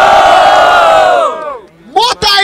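A crowd at a rap battle in Barueri, São Paulo, roars with loud cheering and whoops that fade, then surges again with shouts.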